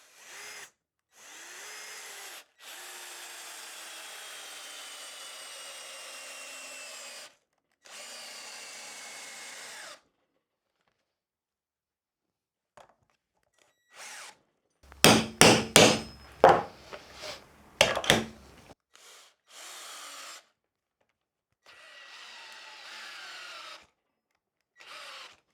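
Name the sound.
Ryobi RDD18-0 18V cordless drill-driver driving screws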